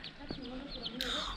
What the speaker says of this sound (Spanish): Los pollitos, ¿son tan pequeños?